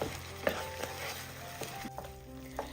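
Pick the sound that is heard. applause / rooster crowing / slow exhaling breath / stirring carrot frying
stirring carrot frying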